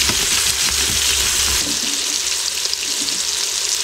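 Chicken adobo scraped in the bottom of an Instant Pot to keep it from burning, a steady close sizzle and frying hiss with soft scraping and stirring throughout, no voices.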